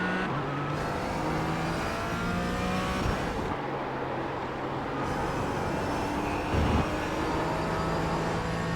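A race car engine in Gran Turismo 4, racing a McLaren on a track with a corkscrew, drones at high revs for several seconds, with gear shifts and pitch changes, loud and steady with no talk.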